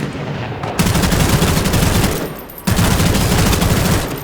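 A Thompson submachine gun rattles in the video game Bloodhunt, loud rapid bursts of automatic fire that pause briefly and then resume.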